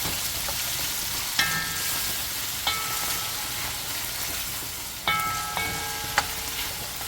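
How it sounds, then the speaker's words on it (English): A spoon stirs Jamaican-style steamed fish with okra and seasoning in a pot, knocking against the metal with a handful of ringing clinks at irregular intervals over a steady low hiss. "Okay, we're gonna stir this up."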